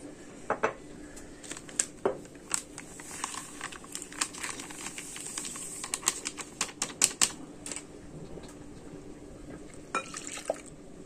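A whisk beats whipped cream mixture for a cake in a bowl, giving a fast, irregular run of close clinks and tapping scrapes against the bowl with no talking.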